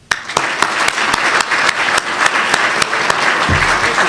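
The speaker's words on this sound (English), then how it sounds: "Please join me in giving a warm and appreciative greeting to Ken Starr." Loud, steady audience applause welcomes Ken Starr to the stage at a talk on higher education, a dense wash of clapping with a few sharper claps standing out over about four seconds.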